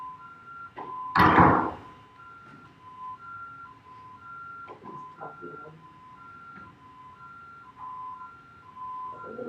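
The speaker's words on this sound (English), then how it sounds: "I'll shut these doors, let's see if we can hold it" A meeting-room door slams shut at a township board meeting, one loud, heavy, close thud near the start, followed by faint knocks and shuffling while a steady two-tone electronic beeping repeats in the background throughout.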